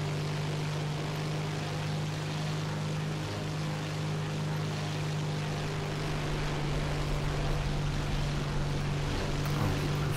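A propeller aircraft drones steadily in War Thunder, a loud continuous engine hum with a strong low tone and broad rushing wind noise that holds evenly throughout, with no talking.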